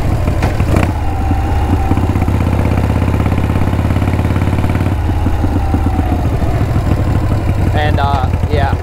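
A Harley-Davidson with drag pipes fitted with lollipop baffles rumbles loud and close, chugging uphill in fourth gear with a deep uneven throb, while someone talks over the engine.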